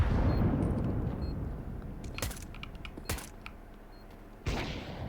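Gunfire in Counter-Strike during a competitive esports match: a few sharp, distant-sounding shot bursts cut through a busy game ambience, with one louder crack near the end.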